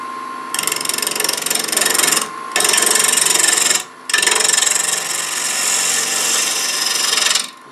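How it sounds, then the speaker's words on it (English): A 3/8 inch bowl gouge roughs the outside of a wooden bowl turning on a lathe, giving loud, steady scraping and rasping cuts in three long passes with brief pauses between them. "I'm going to leave the tailstock support on it and rough the outside"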